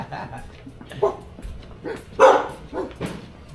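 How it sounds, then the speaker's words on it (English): A bored dog outdoors wanting to play gives a few short barks and yips mixed with people talking nearby, moderately loud and intermittent. "And dog's wanting to play. He's bored."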